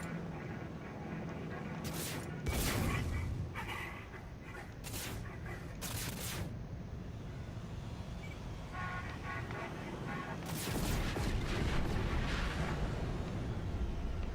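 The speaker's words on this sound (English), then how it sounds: "I heard an explosion." Explosions sound in the space game No Man's Sky: several loud booming bursts rise over a constant rumbling engine hum, with a larger blast rolling on toward the end.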